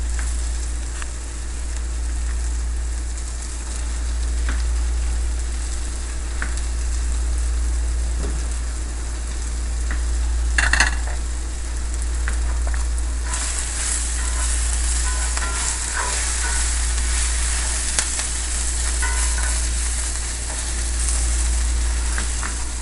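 Onions fry in a pan with a steady, close sizzle, joined now and then by faint clinks of stirring, all over a low constant hum.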